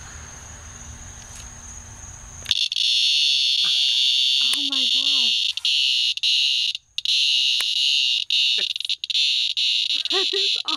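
Loud, continuous high-pitched buzzing drone from a cicada held in the hand, steady apart from a few brief dropouts, with people exclaiming and talking over it.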